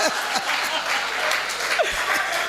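An audience at a gathering at a police station claps, a dense steady round of applause, loud and close, with a voice talking briefly over it.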